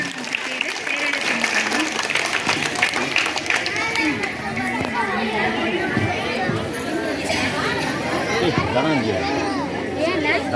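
An audience at a school gathering applauds at length, a dense wash of clapping mixed with crowd chatter and some children's voices, loud and sustained throughout.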